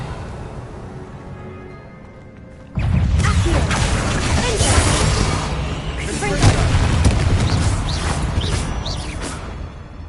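Confringo blasting spell explosion in a Harry Potter video game: a sudden loud blast about a third of the way in, followed by sustained, dense rumbling and crackling debris that stays loud to the end.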